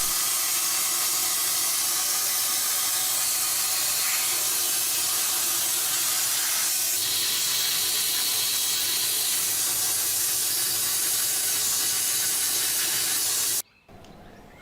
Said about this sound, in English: I can now clean both of these two halves in the hot washer.